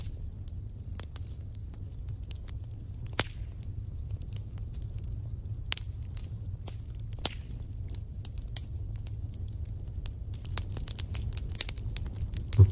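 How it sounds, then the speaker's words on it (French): A wood fire burns in a fireplace, scattered sharp crackles and pops snapping irregularly over a soft, steady low rumble of flame, close and calm with no talk. "Vous écoutez le bois craquer."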